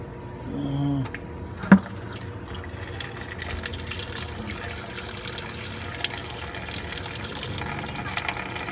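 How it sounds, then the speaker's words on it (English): Coolant drains from the petcock valve of a DT 466 bus radiator as a steady trickling, gushing flow of liquid, fairly close, after a brief clank and with no talk over it. "there's a little petcock valve. We got to open for water, for some of that coolant to drain off."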